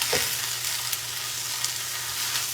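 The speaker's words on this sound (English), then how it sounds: "Let's turn the spinach around. You see it's already wilting down really good." Spinach and other vegetables sizzle in a hot skillet, a close, steady frying hiss with a soft scrape at the start and a few faint crackles.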